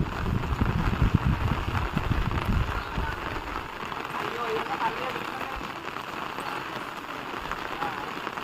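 Rain falls steadily on a street outside a neighbourhood shop, a dense, even hiss with heavier patter early on that softens and continues throughout.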